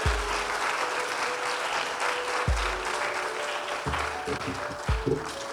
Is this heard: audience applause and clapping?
yes